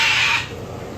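A parrot at the Phoenix Zoo lets out a single loud, harsh squawk lasting about half a second, then fades into quieter background noise with no voices.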